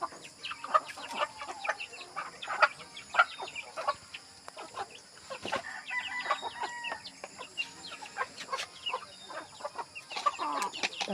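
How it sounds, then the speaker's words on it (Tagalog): Backyard pet chickens cluck and squawk in a busy overlapping chorus during a rural feeding, with a rooster's crow mixed in; the calls come in frequent short bursts at moderate distance. "Magpapakain po tayo ng mga alaga nating manok."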